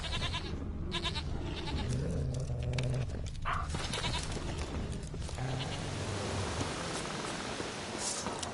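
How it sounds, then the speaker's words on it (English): A goat bleating in the Witcher 3 game, a few wavering calls heard over a steady ambient background with soft rustling. "goat."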